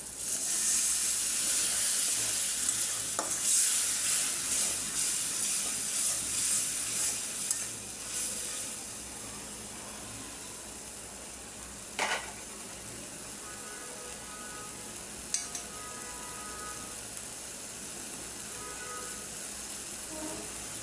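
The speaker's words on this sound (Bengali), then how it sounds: "এখন একটু পানি দিয়ে দিই মশলাটা একটু কষায় নিই" Spice paste for a loitta (Bombay duck) fish curry fries in a pan with added water, hissing loudly at first then settling into a softer, steady sizzle, with a couple of sharp utensil clicks later on.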